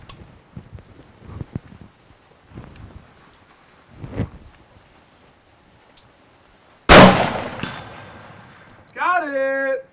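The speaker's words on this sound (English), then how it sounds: "I'm shooting this 338 Edge, 200 yards, steel target here." A .338 Edge rifle fires at a steel target 200 yards out in the rain: one sharp, loud crack near the end, after quiet patter and scattered handling noises, then a voice reacts.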